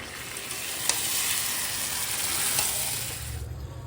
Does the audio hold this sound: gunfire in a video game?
no